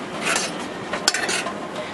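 A fork and spoon clink and scrape against a pot of boiling sauce in a few short, sharp metallic taps over soft bubbling, close and fairly clear.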